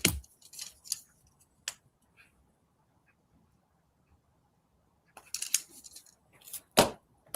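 Scissors trim the thread tail on a small beaded weaving project with a few sharp, close snips and clicks. A long silent gap separates the first cuts from a second burst of snipping and handling near the end.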